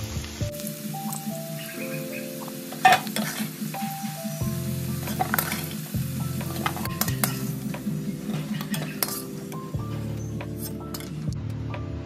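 Potatoes frying in a pan give a soft sizzle, with a utensil clinking and scraping as they are stirred and lifted out, over a steady low kitchen hum.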